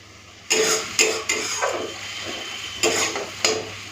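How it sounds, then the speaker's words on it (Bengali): Ginger, garlic and onion fry in hot oil with a steady close sizzle, while a utensil stirs the pan in several scraping, clattering strokes. "আদা রসুন পেঁয়াজটা ভালো করে ভেজে নিয়েছি"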